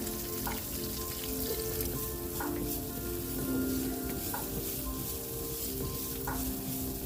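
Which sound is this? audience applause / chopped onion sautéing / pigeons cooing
chopped onion sautéing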